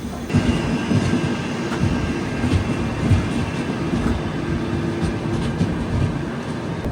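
A train rolls slowly into Vadakkanchery station in Kerala, with a steady low rumble of wagons and wheels running close and continuous, and faint squeals and rail clatter over it throughout.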